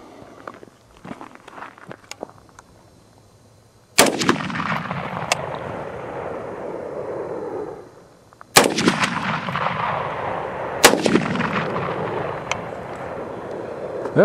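Bushmaster ORC AR-10 .308 rifle firing outdoors, two loud, sharp shots a few seconds apart, each followed by a long rolling echo, with faint shuffling and movement before the first shot.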